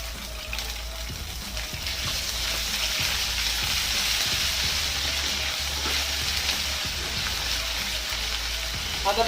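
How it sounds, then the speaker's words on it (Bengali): Ginger paste frying in hot oil with mustard seeds and dried red chilli in a pan for a raw-mango fish curry, giving a loud, steady, close sizzle with stirring scrapes throughout and no talking. "আদাটাকে একটু কষিয়ে নিতে হবে।"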